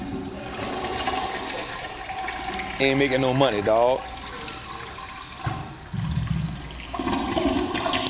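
A toilet flushes with a steady, rushing gush of water that runs throughout, while someone talks over it and a brief melodic tone rises partway through.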